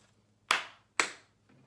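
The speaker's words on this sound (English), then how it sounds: "Clap twice." Two sharp hand claps about half a second apart, close and crisp, each with a short room decay, in an otherwise quiet space.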